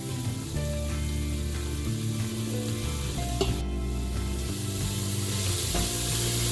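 Onion and garlic sizzle steadily in a pot for a brown rice pilaf with seasoned chicken, a continuous frying hiss with soft stirring scrapes and light clinks, a brief sharp knock near the middle, and no talking.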